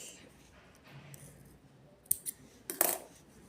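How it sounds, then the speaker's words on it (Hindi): Scissors snip crochet thread while a thalposh tray cloth is being made. Two or three short, sharp cuts land near the end of a quiet stretch of faint room noise. "यहाँ पे अब एक चेन लेके धागा कट कर देंगे।"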